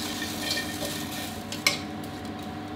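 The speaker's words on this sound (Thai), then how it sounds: "อันนี้เราคั่วพริกให้สุกหอมดีเลยนะครับ" Green chilies dry-roasting in a pan over medium-to-low heat, a soft, even sizzle with a faint clink of a utensil partway through, close and quiet.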